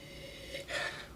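A short, close sniff of wine, a quick sharp inhale through the nose, heard alone against quiet room tone.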